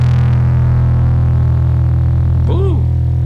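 Bass guitar through a Boss ODB-3 bass overdrive pedal at full distortion, a loud buzzing sustained low drone with heavy hum, and a short warbling pitch bend near the end.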